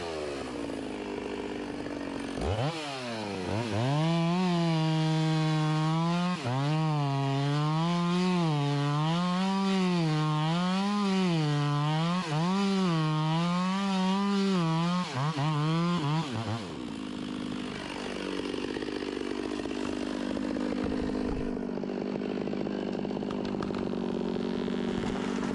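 A chainsaw cutting timber in a Tennessee logging operation roars loudly and steadily, its engine pitch rising and wavering as the chain bites into wood, then dropping back to a rough idle-like drone near the end.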